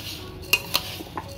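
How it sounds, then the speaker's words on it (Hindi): Khoa pieces are mashed into a suji gujiya mixture with a metal utensil against the pan, making two sharp clinks and then a couple of softer taps over a low, quiet background; no one speaks. "जो भी खोआ का मोटा मोटा टुकड़ा है वो इसमें मैश कर देंगे"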